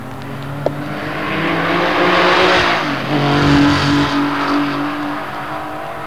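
A Formula One Grand Prix car from the Fangio and Moss era of the 1950s roars past. The engine note swells loudly, peaks near the middle and fades gradually as the car pulls away. No talk is heard.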